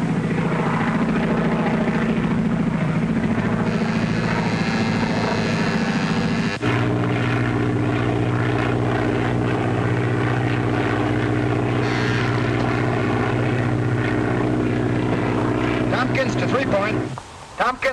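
A propeller aircraft engine drones steadily in flight, carrying a spotter plane fitted with a smoke attachment. The loud, continuous hum shifts pitch partway through, and radio-style voices talk over it before it cuts off abruptly at the end.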